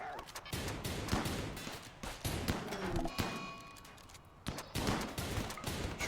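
Rapid, repeated gunfire from colonists fighting a raiding horde in RimWorld, with dense bursts of sharp shots crackling continuously at close range and a few brief gaps.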